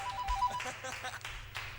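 A telephone ringtone repeats a short electronic tone behind overlapping voices and laughter during a Norwegian comedy commentary session, the ring fairly near and partly buried under the chatter.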